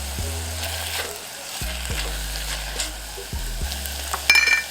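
Worcestershire sauce hitting sizzling garlic in a hot pan, a steady loud fry with a few short bursts and low hums underneath, ending in a sharper crackle, close by with no talking.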